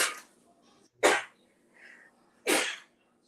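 A person sneezes sharply and close by, once near the start and again about a second later. A third sneeze follows after a short breathy pause. No talking.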